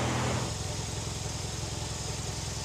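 A Centurion tank's engine, restarted after sitting unused for over twenty years, settles into a steady rough idle after a brief louder start, a continuous mechanical rumble with a throbbing pulse, alone without talk.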